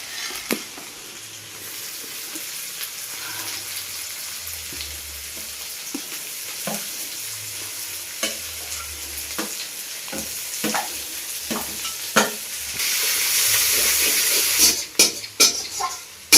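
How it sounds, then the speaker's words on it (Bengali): Onions and garlic frying for a village-style desi chicken curry, a steady sizzle broken by repeated stirring scrapes and knocks, with a louder hissing burst near the end. "রসুনটা পাকানো হয়ে গেছে, এবার আমি দিয়ে দিচ্ছি পেঁয়াজ।"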